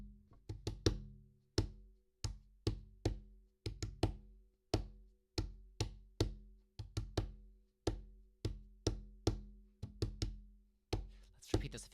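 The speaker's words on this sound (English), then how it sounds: "let's go ahead and tap through this rhythm" Tapping a simplified rhythm on a surface, a steady run of crisp, close knocks in a syncopated repeating pattern, with a brief noisy touch at the very end.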